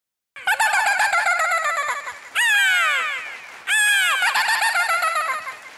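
A voice imitates a hornbill call in three loud, close, harsh honking bursts with falling, throaty tones, separated by short gaps.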